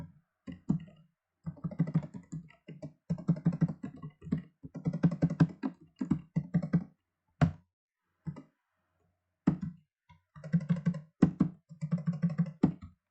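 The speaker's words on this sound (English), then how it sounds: "But you can just start typing your data if you want." Computer keyboard being typed on for data entry, bursts of rapid clicking keystrokes separated by short pauses, close and fairly quiet, with no speech.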